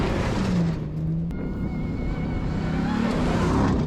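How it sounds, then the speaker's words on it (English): A Ram TRX supercharged pickup truck driving over rough ground, its engine roaring steadily with a thin high whine riding on top, loud and continuous throughout. "the whine of that supercharger is so good"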